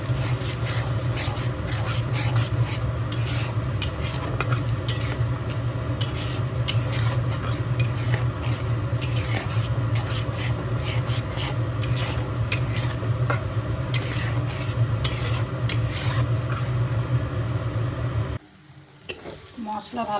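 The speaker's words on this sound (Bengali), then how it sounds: "দিয়ে ভালো করে কষিয়ে নেব।" Masala for bhindi masala stirred and sautéed in a pan, a steady loud sizzle with continual scraping and stirring strokes, briefly cutting out near the end.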